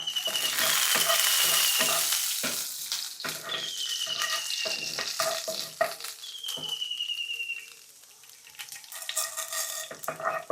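Mustard seeds and urad dal fry in hot oil for tomato rice, a loud close sizzle crackling with sharp pops, easing partway through, with a few thin whistling tones.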